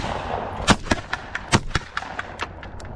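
Shotgun blasts at the season's first clay shooting meet, a string of sharp, loud reports at irregular spacing, some close and some further off, with no voices between them.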